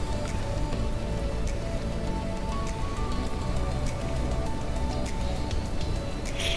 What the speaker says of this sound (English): And crank on the rain, turn up the thunder.